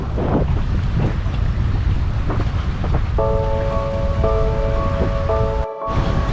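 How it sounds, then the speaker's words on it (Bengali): A ferry boat crosses the water toward the shore on a river crossing in Bengal, with steady wind rumble and engine or water noise throughout, and a few tonal horn-like notes near the end. "এই নৌকোটা আসছে এই নৌকোটায় পার হোক"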